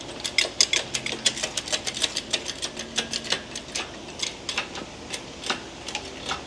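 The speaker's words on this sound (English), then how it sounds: "let's take our bar here and we're gonna run this jack up." A jack being pumped with a steel bar to raise a Duramax pickup truck during a frame-off restoration gives a steady run of sharp metallic ratchet clicks and ticks, close and distinct, with no talking.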